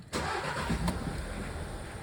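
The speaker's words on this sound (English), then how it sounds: "turn the car on," A car engine cranks and catches abruptly, then settles into a steady, fairly loud idle that continues alone to the end.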